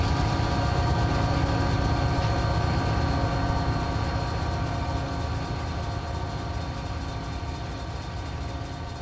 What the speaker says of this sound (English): Big old container train.